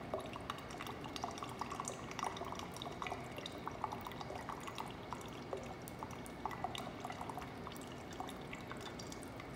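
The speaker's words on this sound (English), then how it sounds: "I will decant the aqueous layer" Aqueous layer of a lab reaction mixture being decanted, a continuous soft trickle and pour with scattered drips, steady and fairly close throughout, no voices.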